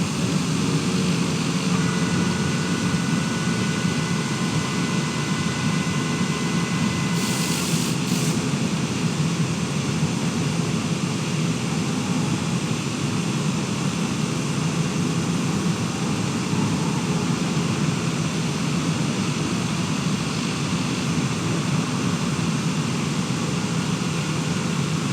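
A TBM single-engine turboprop taxiing off the runway, its engine a steady, loud, continuous drone with a few faint tonal whines on top, heard close with no talking.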